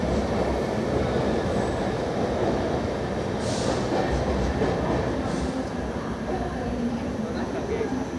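Deccan Queen LHB passenger train running, a steady rumble of wheels on track with faint squeals, heard from inside the coach under a speaking voice.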